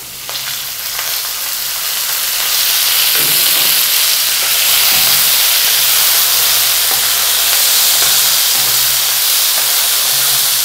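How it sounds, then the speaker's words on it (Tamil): Black chickpeas hit a hot pan for sundal, setting off a loud, steady sizzle and hiss that swells after the first second and holds strong throughout, with faint stirring scrapes beneath. "இப்போ நம்ம இந்த கொண்டக்கடலையே போட்டுடலாம்"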